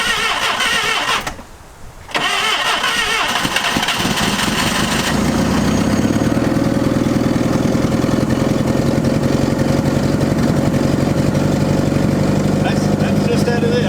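A propane-fuelled forklift engine cranks, catches after a short pause and settles into a steady, loud idle with an even mechanical rumble close by.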